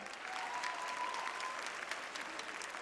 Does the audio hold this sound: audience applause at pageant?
yes